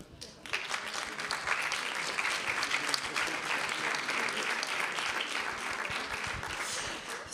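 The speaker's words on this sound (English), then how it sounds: "This is your applause." A conference audience claps steadily for several seconds after a panel discussion on world security, dense applause that starts abruptly and holds even throughout.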